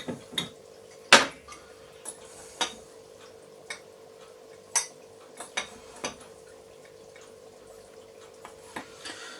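A spoon stirs icing sugar into coffee icing in a bowl, making irregular sharp clinks against the bowl, quiet and close, with no talk.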